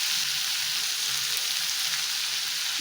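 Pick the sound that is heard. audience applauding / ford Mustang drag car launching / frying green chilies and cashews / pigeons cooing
frying green chilies and cashews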